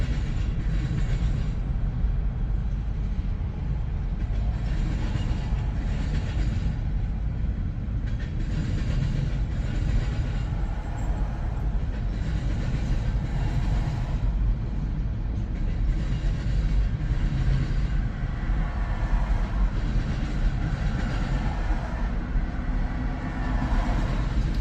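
A CSX freight train pulled by four engines rolls past with a string of high-top boxcars in Emerson, Georgia, giving a loud, continuous low rumble with rhythmic clattering from the wheels that keeps going at a steady level the whole time.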